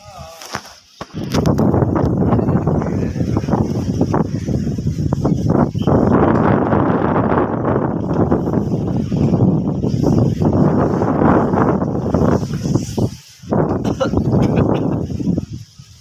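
Strong dusty wind blows hard and continuously across the microphone outdoors, a loud buffeting roar with gusts that briefly drop near the end.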